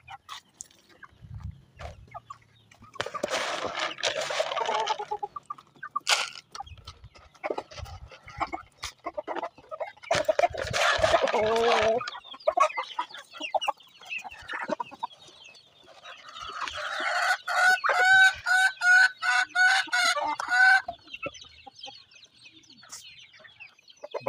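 Backyard chickens, including a white hen, cluck and squawk in repeated bursts during feeding, some calls loud and close, others quieter, with a rooster-like call rising near the end and no talking.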